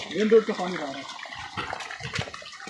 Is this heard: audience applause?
no